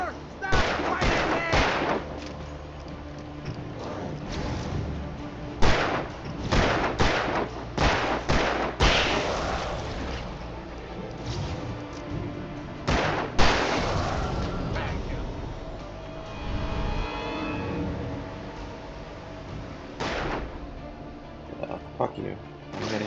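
Gunfire in the video game Alan Wake Remastered, with sharp shots in irregular bursts and clusters over about twenty seconds, mixed with game sounds, while a voice talks over it at times.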